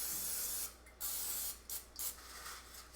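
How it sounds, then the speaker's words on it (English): Cooking spray from an aerosol can hisses onto cookware in a kitchen, several bursts of varying length with brief pauses between them, close and fairly loud. "you're just gonna spray this down really well"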